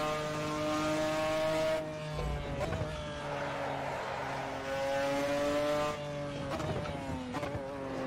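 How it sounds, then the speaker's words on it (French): McLaren F1 GTR Longtail race car in Project CARS, its engine screaming with steady harmonic revs that rise through gears, dip on shifts and climb again, loud and close throughout. "Vraiment, le son de cette McLaren, il est... Très agressif, hein."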